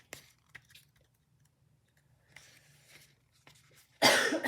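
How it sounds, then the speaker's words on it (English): Faint scattered throat noises lead into one loud, close cough at the end, heard alone without talking. "Apologize for coughing, sorry about that."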